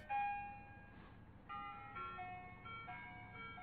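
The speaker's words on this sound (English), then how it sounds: "That is definitely the old ice cream truck song." Tinny ice cream truck jingle from a video game plays through cheap speakers, a bright looping melody that sounds old-fashioned, steady and moderately quiet with no talking over it.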